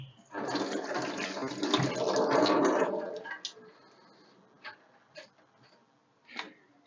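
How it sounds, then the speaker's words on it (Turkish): Running tap water splashes over hands being washed in a kitchen, a loud close rush for about three seconds, then fades into a few scattered clinks and knocks. "Ellerimizi yıkayalım."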